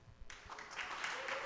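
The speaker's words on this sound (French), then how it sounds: "Applaudissez s'il vous plaît." Audience applause at a diocesan talent contest audition, starting suddenly after a quiet moment and continuing as steady clapping, fairly faint and distant.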